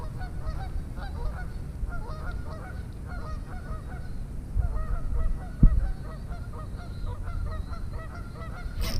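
Geese honk repeatedly at a pond where people are bass fishing. The harsh, nasal calls come in irregular bursts at moderate distance, with no talking.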